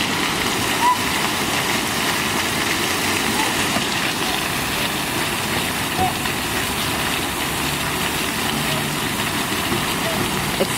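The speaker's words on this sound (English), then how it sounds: "You can't swim in a fountain." Water splashing steadily in an outdoor park fountain, a constant broadband wash of spray at close range that runs without a break, with faint voices in the background.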